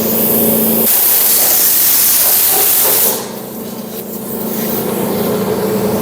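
A spray gun hisses steadily as paint goes onto the inside of a car's driver-side fender, loud and continuous, then drops to a softer, thinner hiss partway through.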